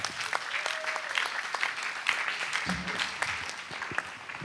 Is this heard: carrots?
no